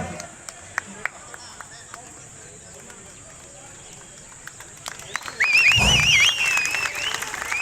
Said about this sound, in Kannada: ಜೋರಾದ ಚಪ್ಪಾಳೆ ನೋಡಿ